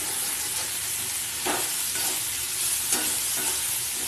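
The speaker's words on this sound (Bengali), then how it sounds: "একটু ভাজা ভাজা হয়ে নিই, তারপরে আমি এর মধ্যে মশলাগুলো দিয়ে দেবো।" Banana flower, potato and chickpeas fry in a wok, giving a steady, close sizzle with a couple of brief stirring scrapes and no talking.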